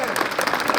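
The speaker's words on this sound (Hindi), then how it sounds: "जोरदार तालियां हो जाए" Audience at an award ceremony honouring students breaking into applause, a brief, dense burst of many hands clapping at moderate level.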